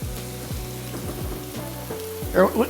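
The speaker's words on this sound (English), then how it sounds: "what I'm gonna be doing right now is giving it a nice sear off" A top round roast searing in hot oil, a steady close sizzle and frying crackle with a few rhythmic thumps and a brief rise near the end.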